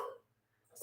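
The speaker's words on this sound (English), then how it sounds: "sorry, I've got a dog barking in the background here." A dog barks in the background, one short yelp at the start and another at the end with near silence between, indoors during a spoken update.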